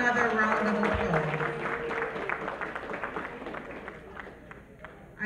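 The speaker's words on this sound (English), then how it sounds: "Let us give him another round of applause." Applause from a banquet crowd at an independence dinner and ball, continuous clapping that thins and fades, with a voice over it at the start.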